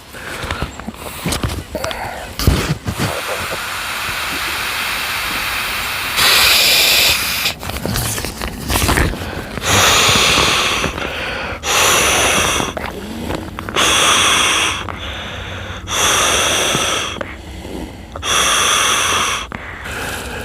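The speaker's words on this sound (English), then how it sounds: "It took me less than 20 breaths to blow it." Someone inflates a Klymit sleeping pad by mouth, blowing a long series of strong, hissing breaths into the valve in a regular rhythm with short gasps between them, loud and close.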